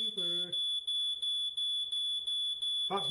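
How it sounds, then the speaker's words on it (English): A smoke alarm shrills nonstop in a steady high piercing tone, pulsing in short regular beats, with a voice briefly talking at the start and end. "That's my second fire alarm."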